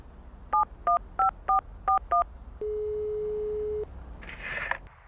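Six quick electronic keypad beeps dial a number on a phone in a video game, followed by one long steady line tone, all distinct over a faint background hiss.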